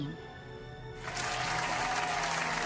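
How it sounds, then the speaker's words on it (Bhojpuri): Audience clapping in a Bhojpuri cartoon village magic show, a steady dense patter of applause starting suddenly after a quiet moment and continuing loudly to the end. "एक बार कोस के ताली बजा दो लोगिन"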